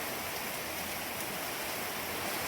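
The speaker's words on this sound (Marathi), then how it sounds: "आमच्या वावरातून पाणी वाहतंय. खरंच लय पाऊस झाला" Rainwater runs off a farm field during heavy rain, a steady, close rushing wash of water with no voices.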